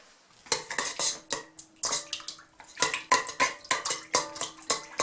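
Yeast is stirred to dissolve it in a bowl: a utensil knocks and scrapes against the bowl in quick rhythmic bursts, with clinking and a hint of liquid, close and clear with no voices.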